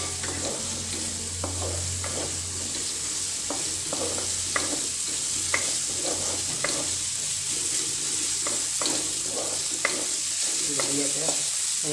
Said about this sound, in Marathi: लसूणाची पेस्ट आहे ना ती आता याच्यात जरा तेलात फ्राय करूया